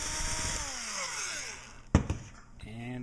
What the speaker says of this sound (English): a couple of squeezes with the pop rivet gun and you'll be all set